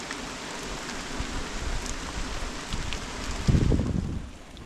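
Rain falls steadily in a forest, a dense hiss of drops on leaves mixed with gusty wind noise against the microphone, swelling briefly louder near the end.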